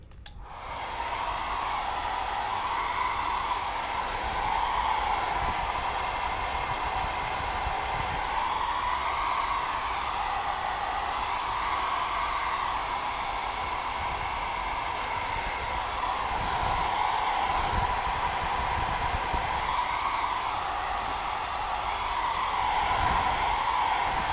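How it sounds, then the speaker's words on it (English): A heat gun blows with a steady, even whooshing roar that runs on unbroken for the whole stretch, close by and alone. "It is a heat gun, and a heat gun does what the hairdryer does"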